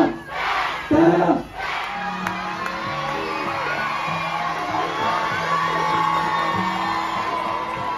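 A crowd of Dallas fans cheers and whoops at a live event, with a burst of loud yelling near the start settling into a steady roar of shouts and chatter throughout.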